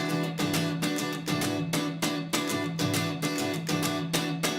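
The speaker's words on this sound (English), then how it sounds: "I could double hit each one of these." Close, loud guitar strumming in quick pairs, each chord double-hit in a steady driving pattern, played alone without any voices.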